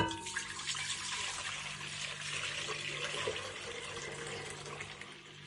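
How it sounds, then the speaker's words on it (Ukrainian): A steady, splashing stream of homemade milk pouring into a pot, continuous and close, with no talking. "3 літри домашнього молока ми виливаємо у каструлю"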